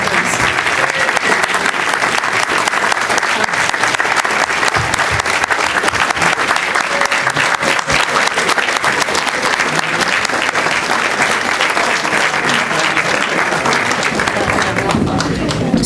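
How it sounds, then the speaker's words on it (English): Sustained applause from the audience at a Senior Corps recognition breakfast for six volunteer honorees, steady dense clapping filling the room throughout at an even, moderately loud level. "let's give them a big round of applause, please"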